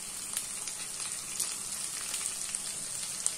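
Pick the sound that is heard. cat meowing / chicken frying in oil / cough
chicken frying in oil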